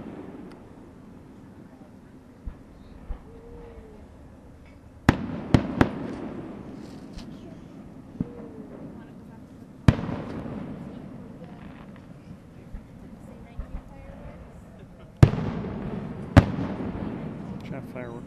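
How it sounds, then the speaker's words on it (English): Fireworks at a reception at Sweet Arrow Lake burst at intervals, sharp booms and crackling pops, some distant, some close, with people talking quietly in between. "Fireworks at a reception."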